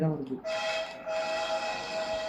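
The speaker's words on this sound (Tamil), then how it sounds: "நான் ட்ரெயின் எடுத்து முன்னாடி போகிறேன்." Train horn from the spider-train horror game Choo Choo Charles, a loud sustained whistle-like blast that drops out briefly and returns, with a voice at the start.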